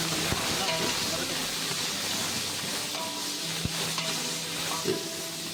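Ginger garlic paste, about four kilos, frying and being stirred in a large pan of onions for chicken biryani, giving a steady close sizzle with occasional scraping knocks of the spoon throughout.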